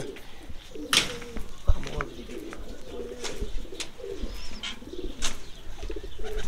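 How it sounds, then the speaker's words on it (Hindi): Bazigar pigeons coo in soft, repeated low throaty calls close by. A sharp clatter comes early on, and faint chirps and rustling sound in the background. "ये वो बाजीगर कबूतर हैं"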